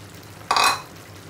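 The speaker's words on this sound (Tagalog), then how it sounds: "Pwede ko na rin pong isunod ang okra." Okra tipped into a pan of cooking malunggay flowers with smoked fish, a single brief sizzling burst that swells and fades within half a second against quiet background.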